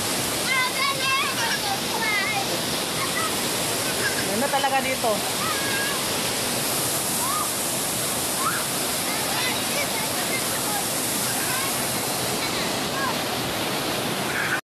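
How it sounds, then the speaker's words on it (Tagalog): A small waterfall at a hidden resort pours in a constant, full rush of water close by, with people talking over it. "may falls dito na maliit"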